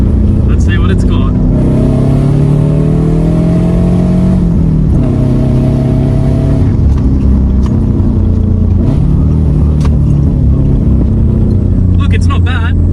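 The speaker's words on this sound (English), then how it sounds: "To put the foot down, you can hear that iconic Subaru rumble, of course, from the 4-cylinder Boxer." A 2001 Subaru Liberty with a naturally aspirated 4-cylinder Boxer engine rumbles and climbs in pitch as it accelerates after downshifts, heard loudly from inside the cabin, with a voice talking over the engine.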